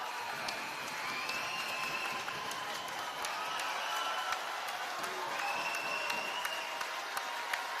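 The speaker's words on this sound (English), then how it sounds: "The Southern Regional fans standing applauding the Rams after that clutch win in the second set." Fans in a gymnasium at a boys volleyball state final stand and applaud after a clutch second-set win, continuous crowd clapping with sneaker squeaks and faint cheers threaded through, under a commentator's voice.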